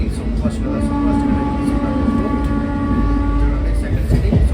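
A superfast express train on the Secunderabad to Villupuram route rumbles steadily, heard from on board as a loud, continuous low roar with sustained tonal hum, and voices talking throughout.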